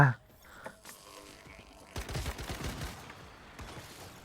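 Gunfire from a firearm shooting monsters in the survival shooter game Once Human, a sharp opening shot followed by a dense burst of rapid automatic shots around the middle, with scattered loud shots after and voices murmuring beneath.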